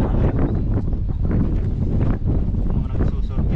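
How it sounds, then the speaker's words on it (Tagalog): Strong beach wind roars across the microphone in a dense, steady rumble that buffets without pause from start to finish. "Dito ito masyadong mahangin."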